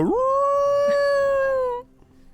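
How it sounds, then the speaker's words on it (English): A low wolf howl sound effect rises into a long, loud, sustained tone, then cuts off abruptly, heard close and alone. "think it's supposed to be low wolf howls"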